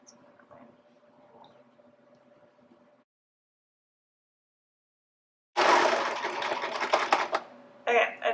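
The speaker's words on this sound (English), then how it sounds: "first I'm just going to get it into the serger" A serger stitches a neckband onto a Wanderlust tee in a loud, dense mechanical whir that starts abruptly after quiet room tone, running steadily for a couple of seconds, pausing briefly, then resuming.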